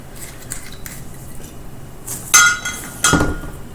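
Ingredients going into a cocktail shaker while making a Tiki Tea cocktail: soft metallic clinks and handling over quiet room tone, then two sharper, louder clanks close by near the end, with no talking.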